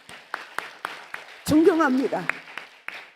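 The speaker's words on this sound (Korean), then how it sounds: "한번 박수 쳐드릴까요?" A church congregation at a Friday prayer meeting claps in sparse, spaced-out bursts, while someone speaks over the claps in the middle.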